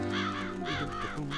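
Cartoon crows caw in a farm garden guarded by a scarecrow, several loud, harsh, close calls in quick succession with no talking.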